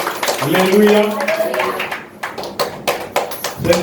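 A congregation in an Anglican church claps hands in welcome; a voice speaks at first, then scattered, uneven claps ring out fairly close.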